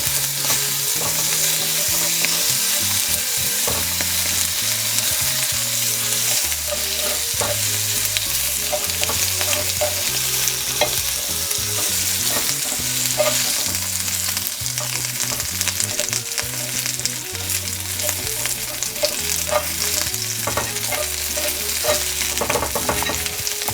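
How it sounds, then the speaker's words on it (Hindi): Lamb chops fry in butter in a pan, giving a steady loud sizzle and hiss throughout, with repeated scraping and stirring knocks from a utensil moving the meat around, close and without talk. "अब हम इसके ऊपर थोड़ा सा ये बटर डालेंगे और इसको बटर के साथ बस ज़रा सा हिलाएंगे"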